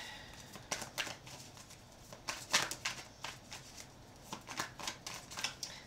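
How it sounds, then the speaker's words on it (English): Cards being shuffled in repeated quick riffles, crisp papery bursts in bursts close to the microphone, with no talking. "as I was shuffling the cards"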